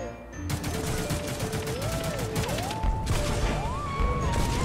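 Rapid bursts of automatic gunfire in The Mean Greens, a toy-soldier shooter, crackling densely and continuously over a droning engine-like tone that slides up and down, loud and close throughout.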